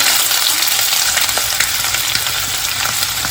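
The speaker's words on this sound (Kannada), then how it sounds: "ಎಣ್ಣೆ ಕಾದ ನಂತರ ಈರುಳ್ಳಿ ಹಾಕ್ಕೊಬೇಕು." Onions fry in hot oil for an egg and potato bhurji, a steady, loud, dense sizzle and crackle that holds constant throughout with no voices.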